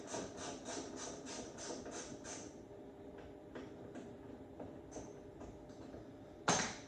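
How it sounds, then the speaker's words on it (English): An 8mm socket ratchet working muffler bolts on a two-stroke engine, a run of quick rhythmic clicks followed by sparser, fainter clicks and a sharp metallic knock at the end, heard close and quiet. "so you're gonna take these bolts out"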